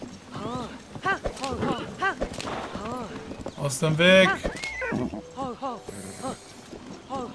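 Galloping horse hooves in Zelda: Tears of the Kingdom, a steady clip-clop rhythm running under excited talk from a player throughout.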